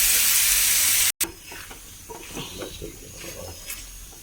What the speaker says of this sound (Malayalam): ഇനി നമുക്കിതിലേക്ക് പരിപ്പും പപ്പായയും കൂടി വേവിച്ചത് ഇട്ട് കൊടുക്കാം